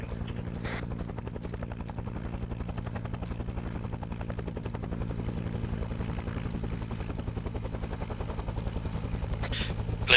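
Helicopter in the Arma 3 military game: a steady, loud rotor thump with a low engine drone runs unbroken for the whole stretch and swells slightly toward the end, with faint clicks and brief bursts over it.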